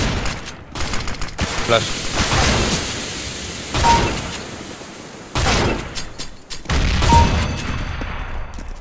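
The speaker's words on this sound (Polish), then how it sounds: "nie sądziłem, że z tego aż tak łatwo się strzela do botów. To jest shotgun" Gunfire from the video game CS:GO, with shotgun blasts in a co-op match, comes in several sharp bursts with short pauses between them. A voice speaks briefly between the shots.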